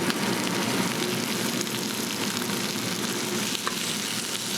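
Vegetables sizzle and brown in a hot pan with confit garlic added, a steady, dense crackling hiss close to the microphone, with a faint scrape near the end and no talking.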